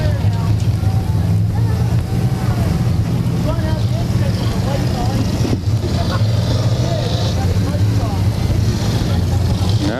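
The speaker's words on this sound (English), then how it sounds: "Yeah, we still hear a few engines going, but not too many." Race car engines droning at Claremont Speedway, a dirt track, a steady low rumble mixed with wind noise, with a few engines revving and varying in pitch under continuous crowd and announcer talk.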